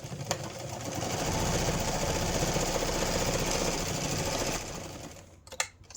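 A sewing machine stitches down a pocket on a kids' art folio, a close, steady rapid whir running for about four seconds, then stopping, followed by a few soft clicks.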